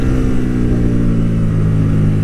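A Hyosung GTR250R motorcycle engine drones loudly and close during a road ride, a steady buzzing hum that holds at constant revs for the whole stretch with no speech.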